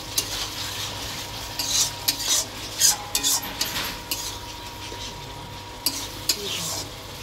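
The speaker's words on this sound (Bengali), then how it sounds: "এবার জল দিয়ে দেবো।" Water added to a sizzling Bengali rui fish curry masala while it is stirred, with loud scraping and clinking of a spoon against the pan over a steady frying hiss, close and alone.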